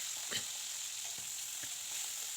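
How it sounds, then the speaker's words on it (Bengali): Parshe fish frying lightly in oil, a steady close sizzle with a few soft clicks from the pan and no voices. "আমি পার্শে মাছগুলো হালকা করে ভাজা করে নেব"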